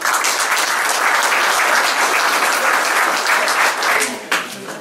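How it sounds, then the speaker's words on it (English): An audience at a screening of the documentary Tell Them We Are Rising applauds the filmmakers, sustained dense clapping filling the room at steady volume before tapering off near the end. "I would like you to applaud them again."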